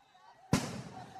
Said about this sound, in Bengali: সাউন্ড গ্রেনেড কিন্তু দফায় দফায় এখানে সাউন্ড গ্রেনেড ফুটতেছে